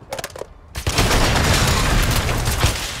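Rapid automatic gunfire rattles loud and close in a Call of Duty multiplayer match, a dense continuous burst of shots after a few brief clicks and a short pause.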